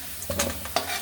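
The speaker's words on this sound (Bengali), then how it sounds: "দেখুন লাল লাল করে ভাজা হয়ে গেছে" Potatoes fry in oil in a pan, dusted with turmeric, while a spoon stirs them, giving a close sizzle broken by two or three quick scraping stirs over about a second.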